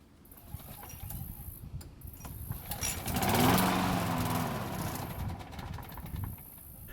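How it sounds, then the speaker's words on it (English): Craftsman lawn mower engine with a grass-clogged air filter, turning over and catching into a rough, rising motor roar that peaks midway then settles into a steady run, with faint bird calls in the background. "there's just enough air to make it through for the engine to start"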